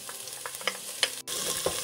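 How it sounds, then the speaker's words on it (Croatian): Finely chopped onion sizzles in heated oil in a pan, a steady close crackling frying sound with soft stirring scrapes. "Na zagrijano ulje dodajemo jednu glavicu sitno sjeckanog crnog luka."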